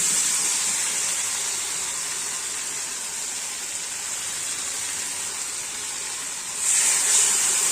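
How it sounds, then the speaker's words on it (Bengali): Water poured into a pan of well-fried spice masala sets off a steady, loud sizzling hiss that runs for several seconds and swells near the end, with no talking over it. "জলটা দিয়ে দিচ্ছি।"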